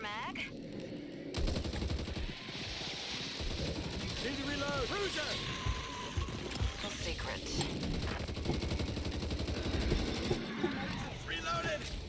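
Gunshots and rapid automatic fire from the zombie shooter Back 4 Blood crackle through busy game noise, while people talk over the action.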